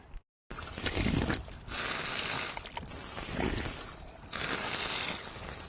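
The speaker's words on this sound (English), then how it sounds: "here's a little fountain of that water coming out" A small water fountain in a park spouts steadily, a broad hissing gush that pulses in and out in waves over several seconds, close by with no talk.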